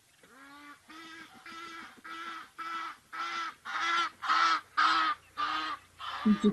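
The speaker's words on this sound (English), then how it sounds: "Egyptian geese, of course." A series of about ten loud, harsh Egyptian goose honks in a steady rhythm, growing louder toward the end, with no other sounds.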